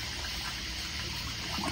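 A 1992 Kohler Kingston Waterguard toilet barely siphons, giving a steady rush of water with a faint gurgling swell near the end, heard up close and without talk.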